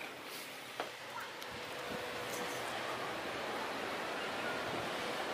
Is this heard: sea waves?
yes